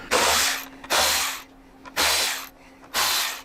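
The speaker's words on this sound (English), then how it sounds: "All we have to do from here is remove these four screws." Four loud, hissing bursts of about half a second each come at an even rhythm, close up, while Torx screws are removed from a motorcycle 6x9 speaker lid. There is no talk.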